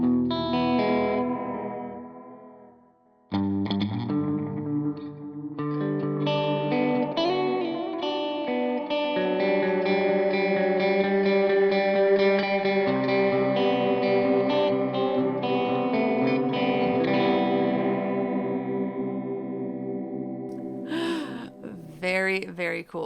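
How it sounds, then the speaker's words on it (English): Electric guitar played through a Line 6 POD Express with a long delay and modulation, sustained chords and notes smearing into wavering, chorus-like repeats that ring out and fade, with no talking. "make this a longer delay time so we can hear that modulation"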